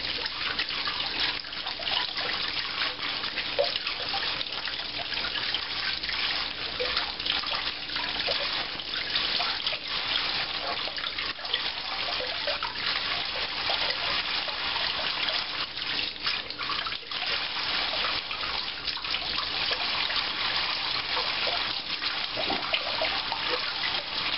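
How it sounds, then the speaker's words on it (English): Green chilies rinsed under a running kitchen sink tap, a steady loud rush of water splashing continuously for the whole stretch, close by, with no speech. "now that I have all of these washed off"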